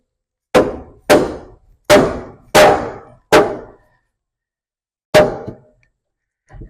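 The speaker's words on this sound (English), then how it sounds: "Pull this valve cover and tap the valves just to make sure they were not stuck." A dead blow hammer taps on an old engine's valves under the removed valve cover: five sharp metallic strikes in quick succession, a pause, then another hit and a faint final tap, each ringing briefly before stopping.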